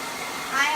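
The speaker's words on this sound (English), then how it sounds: "I have definitely turned up the heat on the blow dryer." A blow dryer turned up to high heat dries hair during salon styling, giving a steady, airy, close-up hiss that swells slightly near the end of the brief moment.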